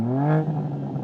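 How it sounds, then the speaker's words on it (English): A BMW M2 Competition engine gives a single quick rev, close and loud, its tone climbing for a moment and then settling back into a steady rasp. "I'm going to rev up my European car."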